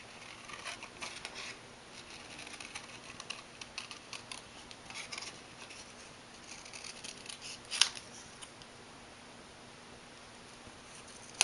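Scissors snip through paper while cutting out a Halloween paper shape, a faint, close, irregular series of small crisp cuts and rustles with one sharper snap near the end.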